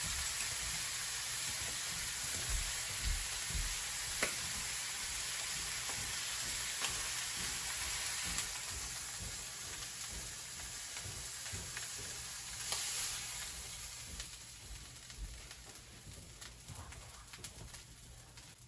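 Pieces of pork tenderloin browning in a frying pan give off a faint, steady sizzling hiss with occasional soft clinks and taps.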